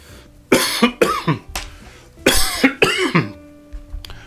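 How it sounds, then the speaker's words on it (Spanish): Two bursts of harsh coughing, a few sharp coughs in each, sound close and loud against a quiet background, with a short pause between the groups. "Estas toses mías resultan de que me trapico"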